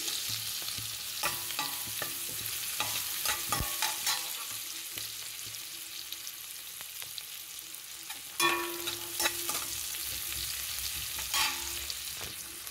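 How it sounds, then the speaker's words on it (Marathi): Onion sautéing in a pan for tava pulao, with a soft continuous sizzle under repeated scraping and clinking of a stirring spoon against the pan, close and moderately quiet. "आता आपण हे परतवून घेणार आहे कांदा थोडा वेळ"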